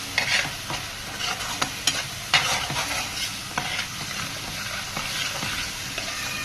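Pav bhaji spice mix cooks in a pan, with a steady sizzle and repeated scraping stirs of a spoon against the metal, close and fairly loud, with no one speaking.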